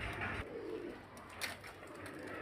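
Pigeons kept for sale, including fancy flying pigeons, cooing softly in a few short, low murmuring bursts nearby against quiet background noise.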